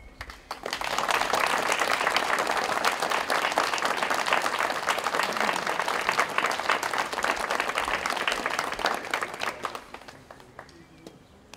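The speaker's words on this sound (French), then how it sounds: "je crois qu'ils méritent vraiment vos applaudissements" Crowd applause following a May 8 parade of young people, swelling quickly into dense, sustained clapping from many hands, holding strong for several seconds before fading out toward the end.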